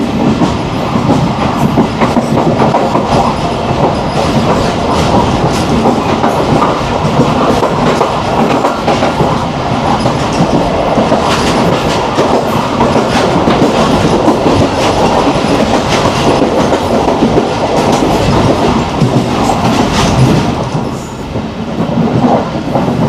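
Pakistan Railways train running on the tracks through a wooded stretch, a steady loud rumble with rhythmic clickety-clack of wheels over rail joints, heard from on board and continuous throughout, with no talk.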